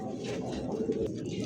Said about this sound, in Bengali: দর্শক এই মুহূর্তে দেখতে পাচ্ছেন সিঙ্গেল একটা কবুতর আছে ঝর্ণা শাটিন,